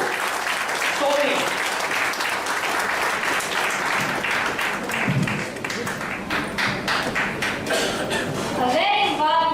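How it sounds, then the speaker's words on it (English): An audience applauds steadily for several seconds, a dense wash of clapping with some chuckles, while a voice speaks over it near the end. "Everybody give a round of applause"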